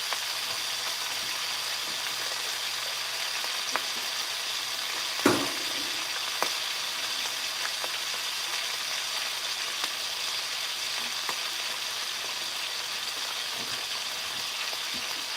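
Meat fat bubbles and sizzles steadily in a pan, a constant crackling hiss with a few louder pops and a sharp tap midway, no voices.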